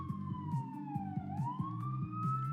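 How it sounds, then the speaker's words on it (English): A wailing siren passes outside, its pitch sweeping down and then rising again, with a rapid pulsing yelp underneath; it sounds moderately distant and plays alone without any talk. "I don't know what's happening outside, but somebody somewhere is in need of an ambulance"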